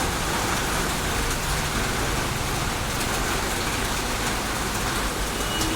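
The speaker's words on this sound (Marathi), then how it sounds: "प्रचंड पाऊस पडल्यामुळे" Heavy unseasonal rain pours down in Chhatrapati Sambhajinagar, a dense, steady hiss of downpour holding the same loud level throughout with no voices.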